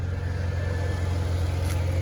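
A 1987 Ford F150 truck running on three-year-old gas idles roughly, a steady low engine drone throughout with a slightly uneven pulse, close by and without speech.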